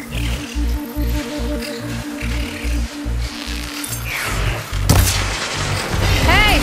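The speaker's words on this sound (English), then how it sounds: "Hey, big explosion!" A big explosion in Horizon Forbidden West's Burning Shores DLC bursts out sharply late in the clip over a pulsing, rhythmic game soundtrack, then gives way to a rising whir.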